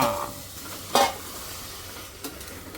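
Masala and horse gram frying in oil in a home kitchen: a soft steady sizzle with a brief louder clatter of a spoon stirring in the pan, then a fainter knock later on.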